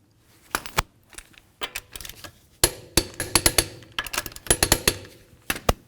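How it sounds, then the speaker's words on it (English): Sharp metallic clicks from a torque wrench tightening the lug nuts on a Jeep Compass wheel in a crisscross pattern, heard as irregular bursts of close, loud ratcheting snaps with brief pauses between nuts. "we'll continue on to torquing the lug nuts in a crisscross manner"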